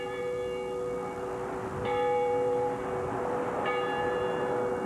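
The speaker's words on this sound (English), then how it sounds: "Church bells rang as Oklahoma City remembered their friends and family who perished." Church bells ring at an Oklahoma City memorial, sustained tolling with lingering harmonic hum and fresh strikes roughly every couple of seconds, fairly distant and steady, with no talking.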